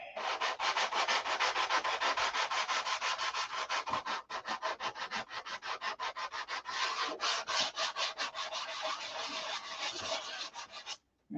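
Rapid back-and-forth sanding strokes rasp across the painted and doped finish of a SIG Magnum model airplane, close and continuous with a rhythmic scratchy texture that ends abruptly.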